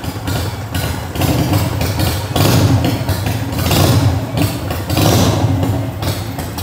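Close Harley-Davidson Sportster 1200 cc custom chopper engine idling, then revved several times in short bursts, the pitch and loudness rising and falling with each throttle blip.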